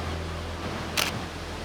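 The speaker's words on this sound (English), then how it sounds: "once it times out, you're gonna see it fire" A Nikon camera shutter fires once on a self-timer during bracketed shooting, a single short, crisp click set against quiet room hiss.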